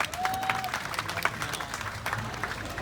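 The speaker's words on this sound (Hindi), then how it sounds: "एक बार फिर से जोरदार तालियां हो जाए" A rally crowd applauds with a continuous patter of clapping from many hands, fairly distant and soft, with a voice briefly heard over it.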